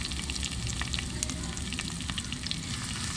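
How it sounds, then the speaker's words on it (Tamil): Onions, curry leaves and coriander sauté together in a hot pan for fish kulambu, a close, continuous crackling sizzle with faint stirring throughout. "எல்லாத்தையும் லைட்டாக ஒன்றா வதக்கிக்கலாம்"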